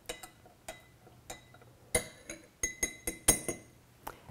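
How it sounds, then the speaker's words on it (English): A spoon clinks against a glass French press while stirring stevia into coffee, a series of sharp, bright taps at irregular intervals, moderately loud with no voices. "So I'm just going to put about 1 1/2 teaspoons of stevia and stir that around."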